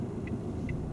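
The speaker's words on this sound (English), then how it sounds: "There's a car coming." A car approaches along the road while a learner waits to pull out at a junction, giving a steady, low engine rumble throughout the short moment with no talking.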